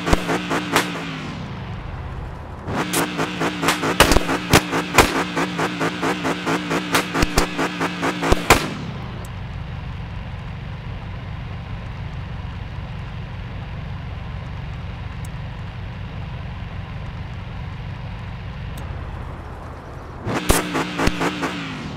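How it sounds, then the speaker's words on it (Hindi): A modified car's exhaust fires loud rapid bursts of pops and crackles like firecrackers, two long volleys separated by a steady idling rumble, then a third volley at the end; no one speaks. "अब देखो इसके पटाखे सुनाता हूँ आपको"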